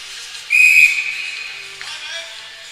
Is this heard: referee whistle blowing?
yes